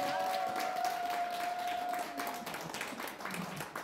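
Audience applause at a talk, steady broadband clapping from a crowd for several seconds, with a sustained tonal ring running through the first half and the clapping fading slightly toward the end.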